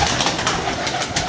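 A pigeon cooing close by in a pigeon loft, brief throaty coos over a noisy, rustling background, with no voices.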